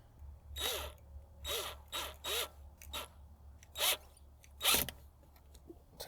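A hose clamp is tightened on a DIY Aqua-Tainer water tank with a screw tool. It makes a series of short raspy ratcheting bursts, several in an uneven rhythm, close by and fairly quiet.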